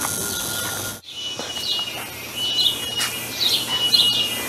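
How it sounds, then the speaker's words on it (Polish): Jungle ambience at night, with dense high-pitched cricket and insect buzzing under scattered bird chirps and calls, briefly dipping quiet before swelling again. "To jest naturalny głos dżungli, tak?"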